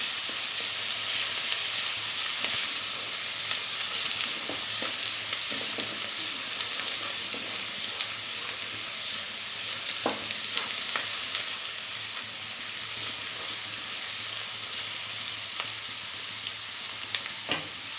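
Sliced onion sautés in a pan over full flame for a kappa masala. A steady, fairly loud sizzle runs throughout, broken by occasional scrapes and taps of the stirring spoon, with no voices.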